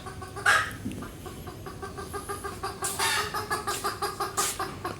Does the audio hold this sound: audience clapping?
no